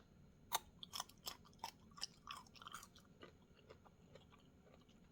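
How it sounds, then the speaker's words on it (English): Close, crisp crunching bites into a fermented carrot followed by rhythmic chewing, loud snaps at first that soften into quieter munching. "I'm going to taste the carrot first so you can hear the crunch"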